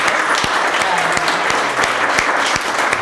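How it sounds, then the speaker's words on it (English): Applause from a gathered audience at a convening, honoring a man named Larry, steady dense clapping filling the room throughout with a few scattered voices mixed in. "I want to give a round of applause to Larry for everything he's done here"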